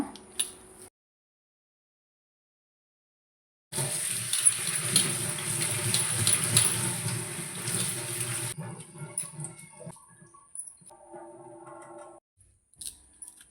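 Leaves are rinsed in water, with close splashing and swishing in a continuous burst that trails off into softer, intermittent trickles and drips.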